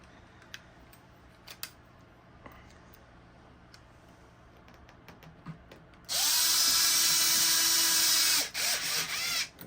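A cordless power driver runs in one loud sustained burst of about two and a half seconds while bolts go into a Traxxas HOSS RC car, after quiet handling clicks and taps on a workbench.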